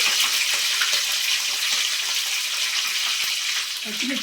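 Whole spices and green chillies crackling in hot oil in a pan for restaurant-style mutton biryani, a dense, loud, continuous sizzle with fine spattering pops close up.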